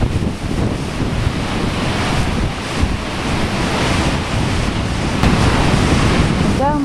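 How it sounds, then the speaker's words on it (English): Storm-driven ocean waves from Hurricane Sandy collide and spray upward, a steady loud roar of surf mixed with strong gusting wind rumbling across the microphone, with a few louder surges. "Waves are coming from a couple different directions and they're actually hitting into each other and going up into the air."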